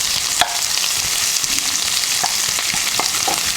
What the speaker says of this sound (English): we are just going to saute this till this softens up and it's translucent